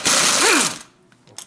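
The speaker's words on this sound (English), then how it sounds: "I open those final bolts in here in that way" A power tool whirs loudly as it unscrews a bolt on a Toyota Camry U140E automatic transmission, one short burst with a rising-and-falling pitch. A quieter metallic clink follows.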